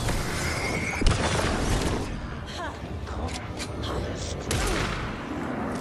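Enemy gunfire rings out in the Alan Wake 2 boss fight against Mulligan and Thornton, with sharp bursts at intervals over a loud, busy game mix and a voice talking throughout.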